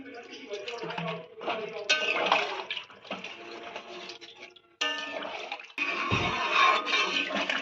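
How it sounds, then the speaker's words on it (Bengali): Water poured into a pan of spiced small new potatoes for aloo dum: close splashing and gushing in several bursts, with clinks of utensils against the pan and brief gaps between pours. "এখানে আমরা পরিমাণ মতন জল অ্যাড করে দিচ্ছি।"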